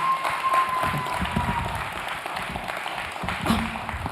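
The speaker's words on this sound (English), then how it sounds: "can we give him a round of applause?" An audience at an end-of-year gathering breaks into moderate, fairly distant applause that holds steady for a few seconds, with faint voices and murmuring mixed in underneath.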